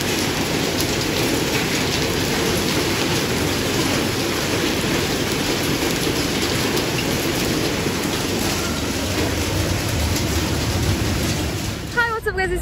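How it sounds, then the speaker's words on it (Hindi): Heavy rain pours steadily in Delhi with a dense, hissing patter, with hard drumming impacts of hail on surfaces throughout. "मैंने ना आज तक कभी ऐसी बारिश नहीं देखी जिसमें ये गिर रहे हो"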